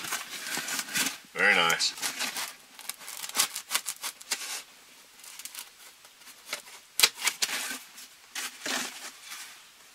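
A blade cuts a square out of blue foam in a van with a series of scratchy, rubbing strokes, loud in places and choppy, while a person talks intermittently.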